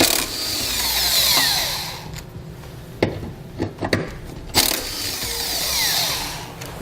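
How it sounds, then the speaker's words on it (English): A 14mm socket on a tool backs out the tow hook bolts on a 2012 Toyota Highlander, with steady whirring runs framing a few short sharp clicks and knocks in a quiet garage setting. "we'll remove the tow hooks on both the passenger and driver's side using a 14mm socket"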